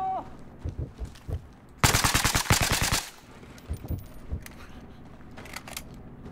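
A rapid burst of gunfire in Battlefield Hardline, loud and sharp, lasts about a second, framed by quieter footsteps and clicks.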